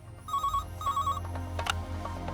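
A telephone rings twice in a repeated electronic trill, moderately loud over a low hum, followed by quieter background sounds.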